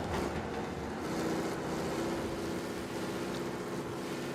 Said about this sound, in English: Even the sound of the car is not where it used to be.